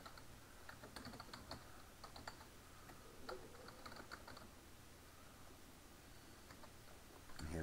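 Keys clatter on a computer keyboard as a Linux terminal command is typed, a quiet run of irregular clicks and taps with short pauses, close to the microphone in a calm room.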